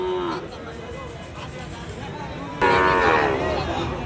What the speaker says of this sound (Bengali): 1 বছর বয়সের একটা শাহিওয়াল ষাঁড় বাচ্চা দেখতে পাচ্ছি